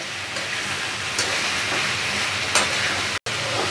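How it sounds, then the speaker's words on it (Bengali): Potato and beetroot stir-fry in a pan, giving a steady, close hiss of frying with faint scraping from stirring that runs unbroken except for one brief cut. "আমি আলু বিট দিয়ে 2-3 মিনিট তো নাড়ছি"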